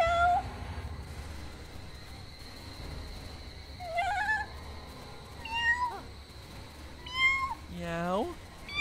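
Cat meows in a Roblox game, several distinct rising-and-falling calls spaced a second or two apart, the last one longer and drawn out, over a quiet background hum with faint talk.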